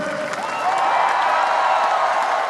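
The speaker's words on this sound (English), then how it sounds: "A huge crowd cheered for President Obama as he arrived with Germany's leaders at the Brandenburg Gate" A huge crowd at Berlin's Brandenburg Gate cheers and applauds as President Obama arrives, a dense, steady roar of clapping and shouting that holds at full strength throughout.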